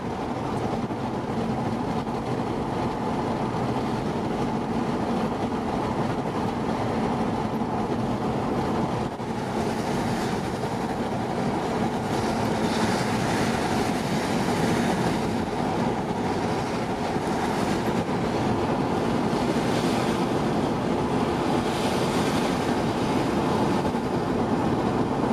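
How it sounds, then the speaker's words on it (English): Steady, gusting wind roars continuously over choppy lake water in Yellowstone, a dense rushing noise with no voices. "Quite a windy day today, so there's a bit of chop on the lake."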